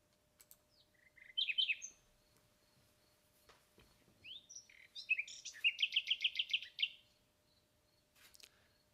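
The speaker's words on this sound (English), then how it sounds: "The sound of a nightingale." A nightingale sings in May near gardens and woods: scattered chirps and whistles, then a rapid, bright trilling phrase, clear and fairly close against quiet surroundings.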